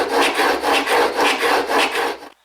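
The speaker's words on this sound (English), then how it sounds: "you can lay a long sheet of sandpaper out, and you can take much longer strokes" Chisel blade sharpened on a long sheet of sandpaper in long back-and-forth strokes, giving about five rhythmic rasping passes, close and loud, then a sudden stop.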